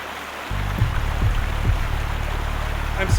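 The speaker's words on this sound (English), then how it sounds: "the water here is way too deep and fast to wade through" A deep, fast river rushes through the Waiau Narrows in New Zealand, a broad steady roar of flowing water up close, with low rumbling thuds, likely from wind or handling, breaking in now and then.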